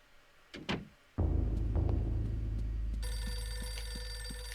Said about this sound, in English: Oh, is that the phone?